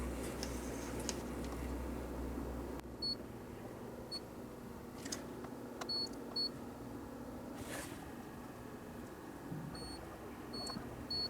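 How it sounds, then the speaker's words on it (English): Short, faint electronic beeps from a multimeter in continuity mode come in scattered bursts as its probes touch pins on a Motorola Quantar exciter circuit board, under a steady background hum. "I've got my multimeter in continuity mode. Not sure if you can hear that or not."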